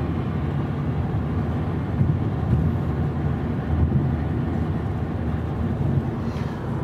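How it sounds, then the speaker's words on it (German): Steady broadband wind rush with low road and engine rumble inside a moving 2018 Mercedes-AMG C 63 S Coupé (C205 facelift), constant and fairly loud throughout with no talking. "Ja, die Windgeräusche hier von der Seite vielleicht ein Hauch lauter geworden."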